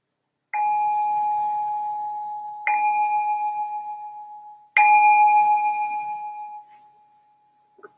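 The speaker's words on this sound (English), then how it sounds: "I'm going to ring the bell to signal the start of the meditation." A meditation bell struck three times to open a sitting session, each clear ringing tone swelling then slowly fading in a quiet room, the final strike decaying gently into silence.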